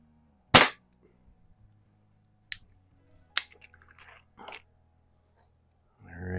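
An Airforce International air pistol fires a few sharp, isolated cracks spaced a second or two apart, loud and close in an otherwise quiet space, with faint handling noise between shots.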